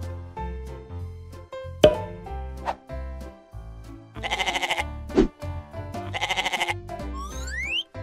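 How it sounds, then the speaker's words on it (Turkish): A sheep bleats repeatedly in short, wavering calls, loud and close, with quick breaks between them and a cartoonish plop and rising whistle mixed in. "Sheep."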